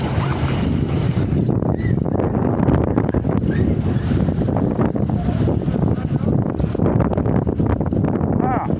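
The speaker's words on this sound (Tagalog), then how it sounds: "grabe hangin." Strong wind roars over the sea around a boat off Zamboanga City, a loud, constant buffeting rush with heavy low rumble against the microphone throughout, and voices are partly buried beneath it.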